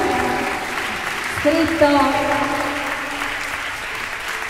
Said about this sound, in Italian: Il nostro applauso.